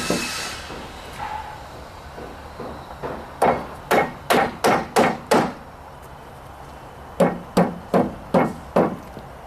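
Nails hammered into timber formwork for a precast concrete beam, sharp wooden blows in two quick bursts of about five and six strikes, close and loud, with quiet gaps between.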